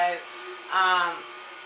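A KitchenAid stand mixer kneads bread dough with a steady, even motor hum throughout, while a voice talks over it.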